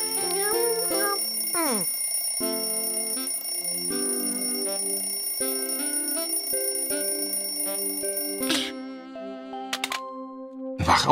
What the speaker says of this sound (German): Oh, der Wecker klingelt.